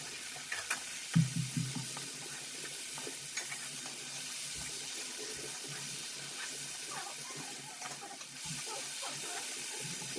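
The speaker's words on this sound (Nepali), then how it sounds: "अब मजाले चलाउनुपर्छ फेरि।" Chicken fry with tomato being stirred in a pan Nepali style, a soft continuous sizzle with a few scraping knocks early on, faint and steady, no talk.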